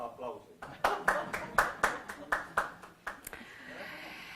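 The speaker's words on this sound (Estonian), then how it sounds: "Sellest ilma eest ka aplausi." An audience applauding at a talk on prosecution and anti-corruption: a short burst of about ten spaced claps that fade into room noise, with speech audible around them.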